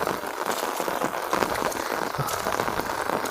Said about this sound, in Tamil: மழை ரொம்ப அதிகமாகிடுச்சு.